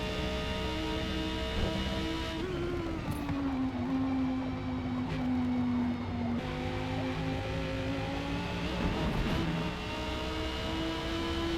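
Engine of a car driven around Sebring in a racing video game, a steady loud drone with long gearing, pitch holding and slowly sagging through a gear then rising again, continuous and alone without talk.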